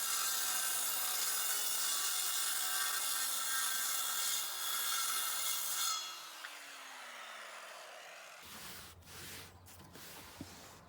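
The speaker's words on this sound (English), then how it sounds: "I'm going to take a simple 45-degree cut to create the bow." A saw works through plywood boat side panels, cutting a 45-degree angle for the bow: steady, close rasping strokes that run continuously for several seconds, then stop, leaving scattered handling knocks and scrapes.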